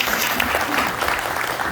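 Audience applause at a Korean forum, a full, close round of clapping from a crowd that runs steadily at a loud level across the whole moment, with no one speaking.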